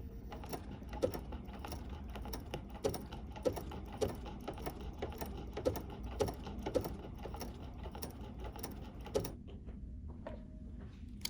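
A Bernina 880 Plus sewing machine stitches at a steady mechanical pace, a dense run of rapid ticking needle strokes with a low motor hum, close and fairly quiet, stopping near the end.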